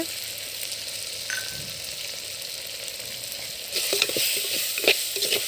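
Country chicken bones sauté in a hot pan with a steady sizzle, swelling louder midway as they are stirred, with scraping and crackling bursts near the end.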